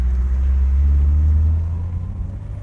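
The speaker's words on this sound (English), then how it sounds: "here comes a semi truck trying to pull in here" A semi truck pulls in nearby, a loud, deep engine rumble that holds steady and then eases off slightly toward the end.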